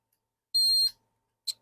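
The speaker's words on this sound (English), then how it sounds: "I'll put the microphone on the meter so you'll be able to hear it go beep" Multimeter continuity test giving a short, high electronic beep, followed by a second quick chirp a moment later, clear and close.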